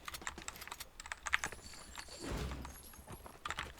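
Rapid keyboard typing clatters steadily close by, irregular clicks and taps with a brief louder rustle in the middle; no one speaks.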